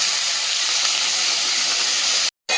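Water poured onto fried potatoes in a hot pan sends up a loud, continuous steam hiss that cuts off abruptly near the end, then flares again briefly.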